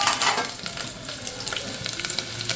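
Chili tempering crackles and sizzles in hot oil, a dense and continuous frying hiss with scattered sharp pops at moderate loudness, heard without any talking.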